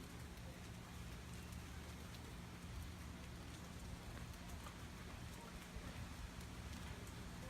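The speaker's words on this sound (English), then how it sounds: "But right now we're just getting some rain." Rain falls during Hurricane Irma, a steady, faint, even hiss of drops on surfaces continuing without pause.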